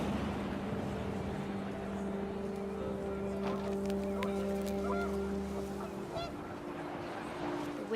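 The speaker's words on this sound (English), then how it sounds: "The wind picked up, and panicked geese appeared and quickly went." Panicked geese honk in What Remains of Edith Finch, a cluster of harsh calls over a steady low droning hum and wind, moderately loud and continuous.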